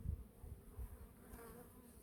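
Honeybees at a hive being checked for protein patties in early March, with a faint, steady buzzing hum over soft low thumps.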